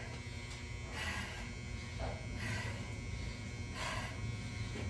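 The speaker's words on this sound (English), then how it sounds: "That's the loudest dryer in the world." A very loud clothes dryer buzzes steadily, a harsh electric drone that swells in brief pulses every second or so, filling the room with no one speaking.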